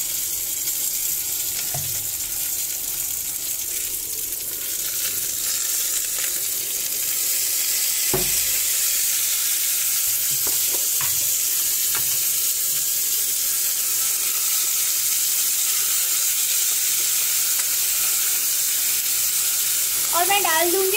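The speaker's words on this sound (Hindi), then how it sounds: "तो यू कैन सी ये थोड़ा सा फ्राई हो चुका है गोभी एंड गाजर" Cauliflower and carrot frying in a pan with grated ginger and tomato, a steady close hiss of sizzling oil running throughout with occasional stirring scrapes and clinks.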